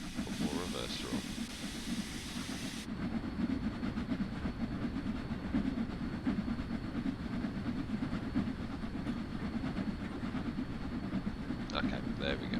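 A Cornish steam train in the Train Sim World 3 video game runs steadily, a continuous low rumbling chuff and rail noise with faint hiss, quiet and constant throughout.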